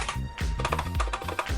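Typing on a Leopold FC900R PD keyboard with low-noise red switches: a rapid, irregular run of soft, muffled key presses, close and steady for the whole stretch, with no voices.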